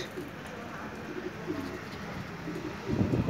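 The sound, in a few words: pigeons cooing in a pigeon loft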